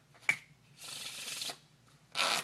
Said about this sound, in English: let's say they give it a perfect Pharaoh shuffle, so I'll just do that now